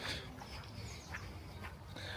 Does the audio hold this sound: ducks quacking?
yes